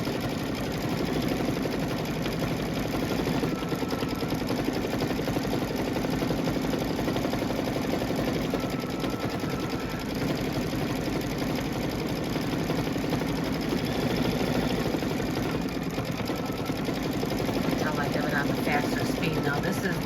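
A sewing machine stitches a tree appliqué on a pillow panel, giving a continuous, fast mechanical whir that stays level and close for the whole stretch with no pauses.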